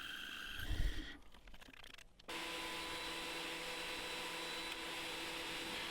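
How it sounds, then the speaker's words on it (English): A wood planer flattens boards for a knife stand. A brief thump and some clatter come first, then the machine settles into a steady, loud whirring roar that lasts to the end. "That way I wouldn't have to take as many passes on my planer."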